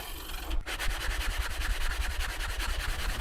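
Sandpaper rubs rhythmically back and forth across a wooden guitar fretboard, shaping its radius with coarse grit, each close, raspy stroke following the last at a quick, even pace.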